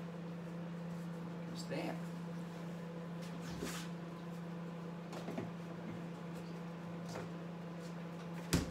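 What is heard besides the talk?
microwave oven heating apple pies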